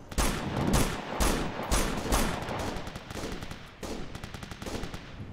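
Rapid bursts of automatic gunfire in Operation Flashpoint: Dragon Rising, a military shooter game, with several loud clustered volleys followed by quicker, lighter shots, no voices.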